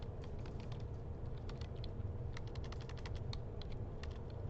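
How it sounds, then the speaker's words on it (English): Steady typing on a computer keyboard during a lecture, a run of light, fairly quick key clicks over a constant low room hum, with no voices. "So the typing speed today would be a little slow."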